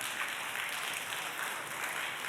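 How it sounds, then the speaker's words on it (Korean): A church congregation applauds during a Friday worship service, a soft, steady, continuous wash of many hands clapping, distant and somewhat faint. "박수 주세요."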